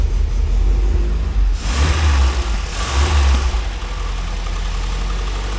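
A 1980 Triumph TR7 engine runs at idle with the choke on after a cold start, a loud, steady low rumble close by, with a brief rise in revs partway through and no talking.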